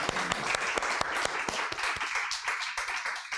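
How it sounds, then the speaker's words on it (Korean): A church congregation claps together during a sermon, a dense run of sharp hand claps filling the room, loud and close with a few distinct louder strikes standing out. "우리 박수로 하는 경우가 되겠습니다"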